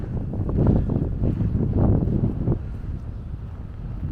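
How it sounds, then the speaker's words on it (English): Strong wind at a hilltop lookout near Airlie Beach buffets the microphone in loud gusty rumbles, easing slightly toward the end into a steady blustery roar. "Sorry about the wind, it's a bit breezy up here."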